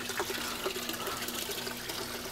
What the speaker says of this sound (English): So water is coming down the NFT system